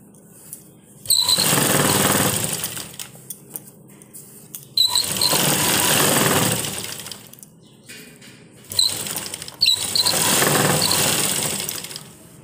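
A sewing machine stitches the seam of a readymade palazzo in three steady whirring runs of about three seconds each, with short pauses between them. The machine sounds close and fairly loud, with no talk over it.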